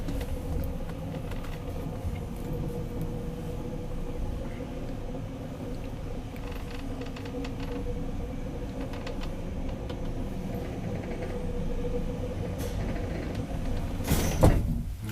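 Old ValmetSchlieren traction lift at Pitkänkalliontie 15 in Haukilahti, Espoo, riding with a steady low mechanical hum and faint rattles, ending with a brief clunk as the car stops or the doors move.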